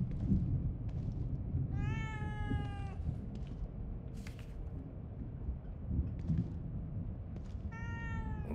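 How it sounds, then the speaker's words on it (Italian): A cat in The Evil Within 2 gives two drawn-out meows a few seconds apart, clear over a low rumbling ambient background, with no talk. "Un gatto."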